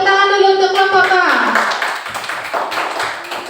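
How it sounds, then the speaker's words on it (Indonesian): Third-grade schoolchildren in a classroom clap their hands together as a group. A sung or spoken tone leads in, then the clapping comes through loud, with voices mixed in. "Kita kasih tepuk tangan dulu untuk kelompok ba."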